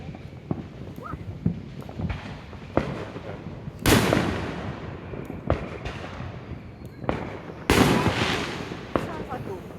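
July 4th fireworks bursting outdoors: repeated sharp cracks and booms, two heavy blasts with long rolling echoes, amid scattered smaller pops at a moderate distance, with voices faintly in the background.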